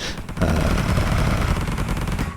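Raiders attack during space combat in the game Deepfield, setting off loud, continuous rapid gunfire: dense overlapping bursts that start after a brief lead-in and keep going to the end.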